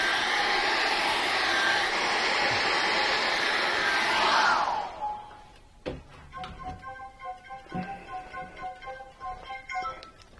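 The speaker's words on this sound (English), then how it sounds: "pick up our hairdryer and dry that off" A hair dryer blows with a loud steady whoosh for several seconds, drying acrylic paint, then switches off, followed by quiet ticking and light tapping sounds.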